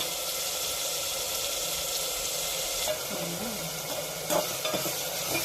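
Onions and spices sautéing in a pan for narai fish gravy, with a loud, steady sizzle and occasional spatula scrapes and stirring clatters near the end.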